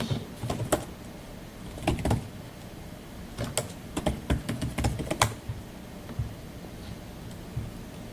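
Fingers typing a password on a computer keyboard, a few scattered bursts of quick, crisp key clicks with short pauses between them, close to the microphone against a quiet room.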